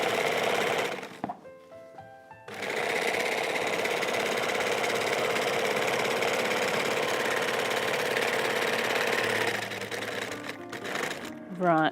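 A sewing machine stitching the seams of a tote bag runs in long, steady whirring bursts, close and loud, stopping briefly near the start and again toward the end.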